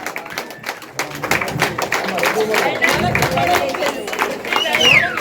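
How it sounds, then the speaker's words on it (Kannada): Applause from an audience at a children's merit award ceremony held at the Kyatanahalli Anjaneya Swamy temple: dense, steady clapping that swells toward the end, with voices talking over it. "ಜೋರ ಚಪ್ಪಾಳೆ."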